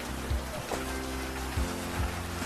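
Rain falls steadily in a broad hiss, with low thuds and a faint tonal hum underneath, and no voices.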